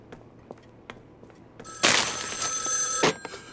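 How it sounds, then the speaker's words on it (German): A telephone rings loudly in the horror game Joe's Diner, a shrill electronic burst of about a second after a few scattered soft knocks and clicks. "Welches Telefon ist das?"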